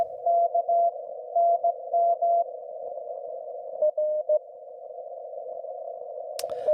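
A Morse code CW signal on amateur radio in a slow-speed contest: a steady single-pitch tone keyed in clear bursts of dots and dashes over a continuous fainter carrier, ending in a brief click.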